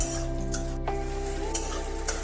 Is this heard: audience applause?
no